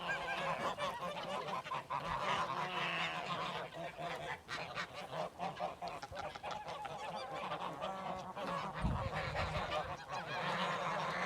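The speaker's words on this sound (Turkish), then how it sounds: "Kolos kazlarını görüyorsunuz arkadaşlar" Kolos geese honk continuously on a farm, a dense, loud overlapping chorus of calls from several birds that fills the whole stretch.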